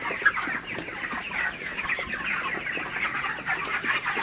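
Broiler chickens clucking continuously in a shed, many birds at once gathered by water containers, a dense flock murmur with occasional sharper clucks, fairly close.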